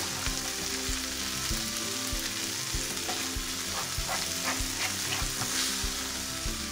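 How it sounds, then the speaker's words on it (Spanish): Steady, dense sizzling of vegetables frying in a pot for a vegetable cream soup, with occasional stirring clatters and utensil knocks throughout; no voices. "Dejo prendido aquí para que se siga friendo"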